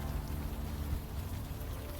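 Steady, dense rain in the video game Unavowed, a constant even hiss with no talk over it.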